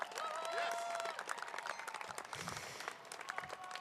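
Outdoor applause from a graduation crowd at a spring university commencement in Colorado, honoring faculty and staff; steady, dense clapping that is loud at first, then thins into scattered claps with some crowd noise.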